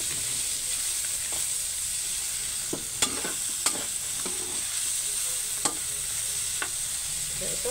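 Pork bouillon cubes sizzle in a pan over a steady frying hiss while a utensil scrapes and taps against the pan bottom in scattered strokes.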